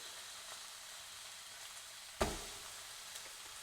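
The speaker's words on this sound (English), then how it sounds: "Ah, the sizzle." Steaks in a pan on high heat give a quiet, steady sizzle with one sharp crackling pop partway through, heard close up with no talking.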